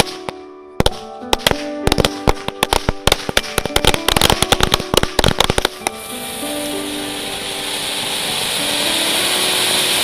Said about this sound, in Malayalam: കൃഷിസ്ഥലത്ത് പടക്കം പൊട്ടിച്ച് കർഷകനും തൊഴിലാളികളും ഒരുമിച്ച് വിഷു